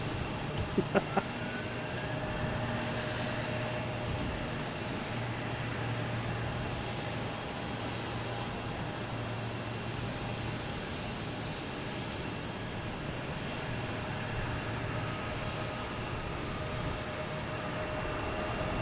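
An Airbus A330-300 airliner takes off at Boston Logan Airport, giving a steady, fairly distant engine roar that holds evenly throughout, with a couple of faint sharp clicks near the start.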